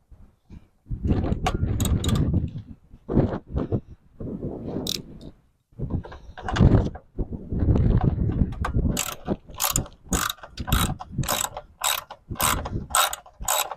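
A ratchet works 10 mm bolts off the shroud of a John Deere X320 lawn tractor, with bursts of rapid clicking and clattering metal handling, some pauses between, close and loud with no talk.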